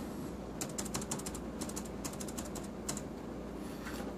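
Quick bursts of keystrokes on a computer keyboard while logging in, several short runs of clicking taps with brief pauses between them over a low steady room hum.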